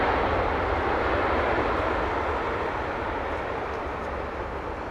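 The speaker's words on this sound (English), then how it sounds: "Jumbo jet." A jumbo jet at London Heathrow Airport fills the air with a loud, steady engine roar that fades slightly across the stretch, with no voices over it.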